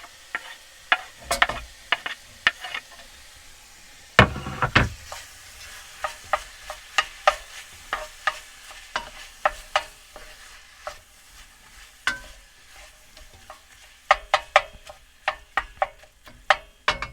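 Pork frying in a cast iron pan with half an onion and garlic, a steady sizzle broken by repeated clicks and scrapes of stirring, close up with no talking.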